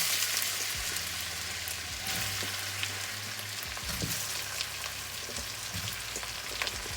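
Potatoes fry in hot vegetable oil in a home kitchen, giving a steady, close crackling sizzle with faint popping throughout and no voices.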